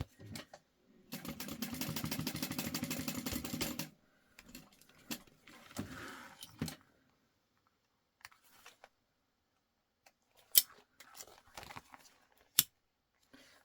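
Scissors snipping fabric while trimming a clear vinyl pencil pouch, a quick run of close cutting clicks followed by scattered single snips and handling noises in a quiet room.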